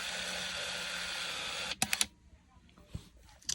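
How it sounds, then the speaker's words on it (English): Film winds into a Canon Sure Shot 105 Zoom camera: a steady motorized whir runs for almost two seconds, then stops with a few sharp mechanical clicks and small clunks, close up. "that was the sound of the film loading into your camera"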